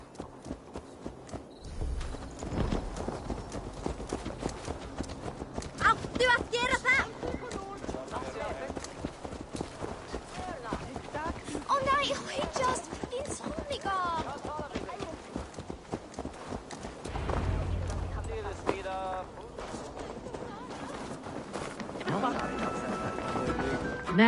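Steady rhythmic hoof clip-clops of a horse trotting in the video game Assassin's Creed Valhalla, continuous throughout, with voices talking over it now and then.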